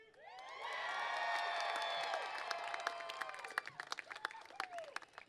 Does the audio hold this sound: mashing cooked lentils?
no